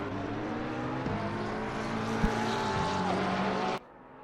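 Race car engines in Assetto Corsa Competizione, a Porsche among them, roaring steadily at high revs with shifting pitch and a brief sharp knock midway, cutting off abruptly near the end.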